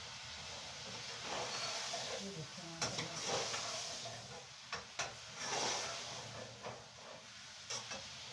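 Cauliflower and meat frying in ghee for a gobhi gosht curry, a steady close sizzle and hiss broken by occasional scrapes and clatters of stirring.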